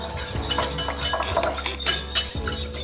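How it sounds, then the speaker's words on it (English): A whisk clinking quickly against a bowl while a vinegar dressing is beaten, a close, busy run of metallic taps and scrapes with no talk. "I am whisking."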